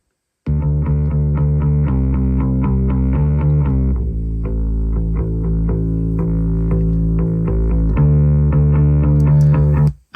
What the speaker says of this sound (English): I drove the head, the 80s Fender Bassman head, so that it'd get a bit of distortion.